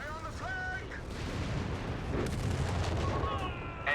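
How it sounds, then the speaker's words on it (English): Airburst artillery shells rain down on a machine gun position in Company of Heroes 3, a battle game, with booming blasts and gunfire rumbling steadily under a commentator's continuous talk. "Machine gun about to get wiped by the airburst."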